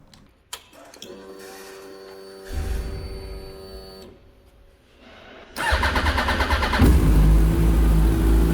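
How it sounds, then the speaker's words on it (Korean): A liter-class motorcycle, freshly fitted with a new battery, has its starter whir and click before the engine catches and settles into a loud, close idle with a few blips of revving. "시동이 정상적으로 잘 걸리네요"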